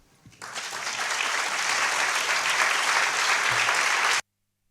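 An audience at a gathering on freedom for the Iranian people bursts into loud, sustained applause after a faint start, holding steady for about four seconds before cutting off abruptly.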